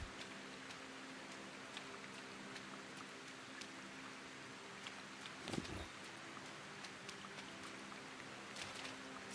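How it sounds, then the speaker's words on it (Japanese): Rain falls steadily in the video game Sengoku Dynasty as a soft, continuous hiss with scattered droplet ticks and one brief louder patter midway. "さあ、雨も降ってきたし。"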